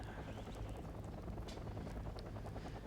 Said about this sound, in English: Now we have an aircraft overhead.